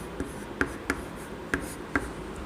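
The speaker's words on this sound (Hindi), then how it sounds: "चलो इसको लिखते हैं हम।" Pen strokes on paper as a sum is copied out in a Hindi lesson, several short scratchy marks at uneven intervals in a quiet room, close and fairly soft.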